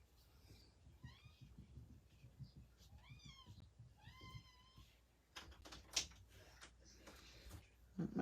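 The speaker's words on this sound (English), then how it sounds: "annoying cat in, so he stops meowing and whining because he wants to be with mommy." A cat meows and whines indoors several times in a row, wavering, drawn-out cries heard fairly close, followed by clunks and rattles like a door being opened, with faint talk in the background.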